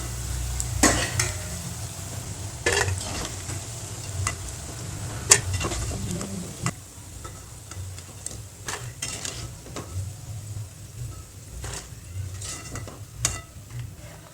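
Brinjal pakoda bubbles in a pan of oil, a low steady sizzle broken by sharp clinks and scrapes of a utensil against the pan at irregular intervals, close by.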